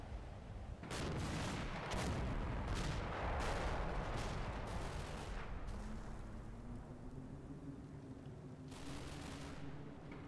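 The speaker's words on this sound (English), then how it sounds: "Oh, no, mortar this time." Mortar fire in a war video game: a run of sharp, heavy blasts in quick succession, then a lone burst after a pause, over a steady rumbling battlefield background.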